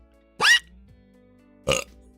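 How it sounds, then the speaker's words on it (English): A loud, disgusting burp bursts out during a live art stream, followed by a second shorter belch a second later, both close and clear against a quiet background with no talking. "I just had to release the most disgusting burp in existence."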